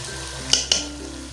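Spices being stirred into chicken and green beans in a hot pan: steady frying sizzle underneath, with two sharp spoon scrapes against the pan standing out in the middle.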